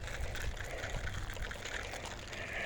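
Water poured onto garden plants after high winds: a soft, continuous splashing trickle that stays steady and faint throughout, with no voices.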